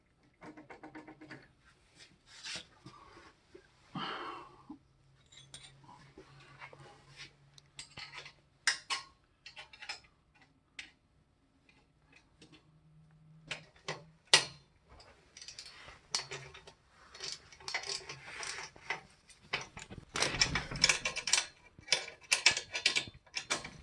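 Metal clicks and ratcheting taps from a go-kart buggy chain adjuster being moved, a close, irregular series of small mechanical knocks and scrapes with quiet pauses between, no talking.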